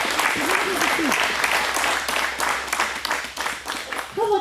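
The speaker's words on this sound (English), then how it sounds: "let's give them a round of applause" An audience breaks into a round of applause during a live conversation event, dense steady clapping throughout with a brief voice rising near the end.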